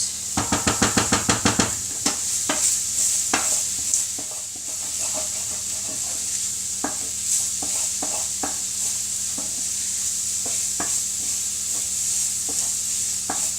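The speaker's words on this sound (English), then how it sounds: "Give that a bit of a stir around." A spoon stirs butternut squash and bacon stuffing in a hot pan: a quick run of scraping strokes at the start, then sparser scrapes and clinks over a steady sizzle.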